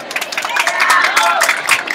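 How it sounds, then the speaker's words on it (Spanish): Loud applause and cheering from a crowd of students at an outdoor school event at Colegio Eloy Ortega, dense clapping with excited voices, steady throughout. "Un fuerte aplauso, por favor"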